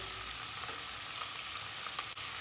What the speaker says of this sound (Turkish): Soğanlar da iyice kavuracağız